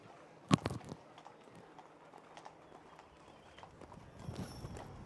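Hooves of a four-year-old stallion competing at the Dublin Horse Show, a sharp nearby clatter of strikes early on, then softer scattered footfalls with a fresh flurry near the end.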